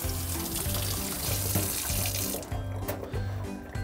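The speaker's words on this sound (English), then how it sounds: "Now you rinse." A paintbrush is rinsed under a running tap in a sink, with a steady close rush of water that stops about two and a half seconds in, leaving faint dripping.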